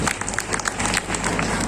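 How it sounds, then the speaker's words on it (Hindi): An audience at a Maharaja Agrasen Jayanti cultural event claps in a brief, dense burst of crowd applause, loud and close with a murmur of voices mixed in. "मैं जानता हूँ बस जोरदार तालियां हो जाएं।"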